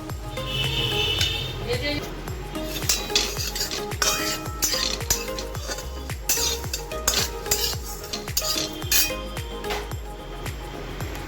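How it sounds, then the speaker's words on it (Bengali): Coriander and cumin are dry-roasted in a dry pan, with quick repeated scraping and stirring strokes and light metallic clinks over a soft sizzle, close and busy, going on steadily for about eleven seconds. "এখানে ধনে আর জিরে আছে এটাকে এখন আমি শুকনো কাঠখোলায় ভেজে মিক্সিতে একটু গুঁড়িয়ে নেব"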